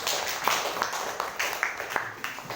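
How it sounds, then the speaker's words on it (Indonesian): A classroom of students claps for a presenting group, scattered uneven hand claps from a modest number of people, fairly close, with some talk mixed in. "beri tepuk tangan untuk kelompok."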